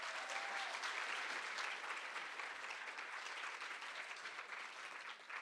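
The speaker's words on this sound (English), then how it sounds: "Give them a round of applause." Sustained applause from an audience at the closing session of a conference, steady and fairly even throughout, quiet and a little distant, with no one speaking over it.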